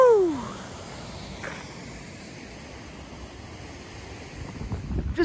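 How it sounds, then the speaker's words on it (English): Wind buffets the microphone in a steady, rushing roar during pouring rain outdoors in Scotland, with a short, faint voice at the very start and gusts rising toward the end. "Don't usually film in the pouring rain, but this warrants it."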